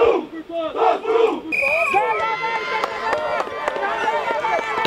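The Brazilian men's rafting team, newly crowned world champions, cheers and chants loudly together in rhythmic bursts of shouting, close and energetic throughout.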